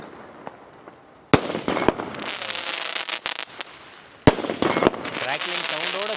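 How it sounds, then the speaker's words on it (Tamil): Sivakasi skyshot firecrackers going off outdoors: sudden loud bursts, each followed by dense sustained crackling that fills the air, with a second burst midway and a few sharp pops in between. "கிராக்லிங் சவுண்டோட போய் மேலேயும் வெடிச்சு கலராகவும் தெரியும்"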